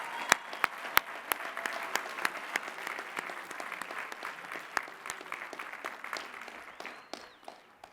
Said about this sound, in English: give all of our graduates a round of applause for that